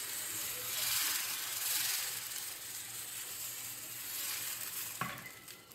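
Jalar batter sizzles on a hot dosa tawa, a soft, continuous frying hiss with gentle swells, followed near the end by a single sharp clink.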